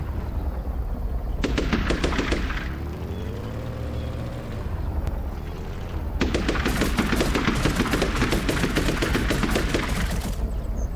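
Rapid automatic gunfire aimed at a camel in the desert survival game Badiya: a dense burst of shots, a short pause, then a longer sustained volley, loud and close with no talking.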